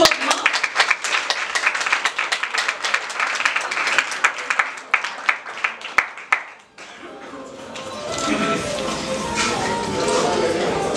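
An audience at a ceremony for a contest final gives warm applause. It opens with sharp, fairly close individual claps, then settles into a broader, more diffuse wash of clapping toward the end.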